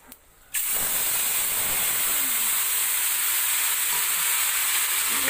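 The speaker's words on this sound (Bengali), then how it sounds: "যেই মশলাটা আমি পেস্ট করেছিলাম সেই মশলাটা ওর মধ্যে দিয়ে দিচ্ছে।" Ground spice paste drops into hot oil already holding whole cumin and other whole spices for a chicken dish. After a quiet moment, a sudden loud hissing sizzle erupts and stays steady and close.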